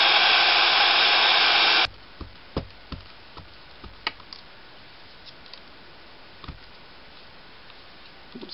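A hair dryer blows loud and steady for about two seconds to dry small craft pieces for a ring box, then cuts off, leaving quiet scattered taps and clicks.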